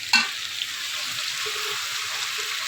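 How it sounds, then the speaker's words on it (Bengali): An egg going into a pan on a kitchen stove gives a sharp hiss at first, then settles into a soft, steady sizzle and light crackle with no voices. "আর এই চুলায় ডিম দিচ্ছি"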